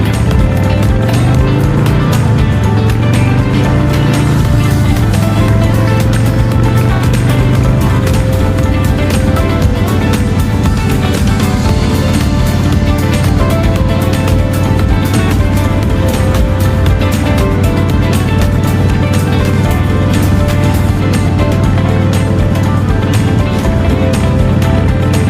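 A Harley-Davidson Softail Springer with Big Shot Staggered exhaust cruises along a tree-lined road, its loud, steady engine drone and wind rush filling the whole stretch, with a low rumble that briefly shifts pitch near the start.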